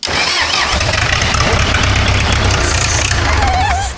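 Diesel engine of a restored Argo amphibious vehicle cranking and firing up, then running loud and steady at close range with a rough, rattling idle.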